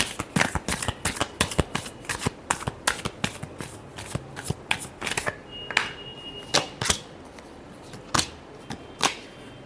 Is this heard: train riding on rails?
no